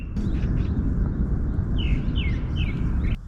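Several short bird chirps repeat at a steady pace at a cold morning campsite, faint over a loud, constant rumble of wind or outdoor noise.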